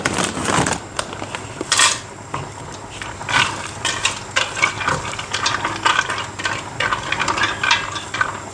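Spicy bean soup ingredients, including beans, garlic, pepper, tomatoes and water, are stirred in a bowl, giving irregular clattering rattles and knocks like nuts and bolts, loud at the start and then a busy run of clicks.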